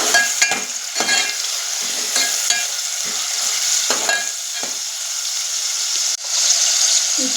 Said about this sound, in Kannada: ಇವಾಗ ನೆನೆಸಿರೋಂಥ ಕಡಲೆಬೇಳೆನ ಹಾಕ್ಕೊಳ್ಳೋಣ.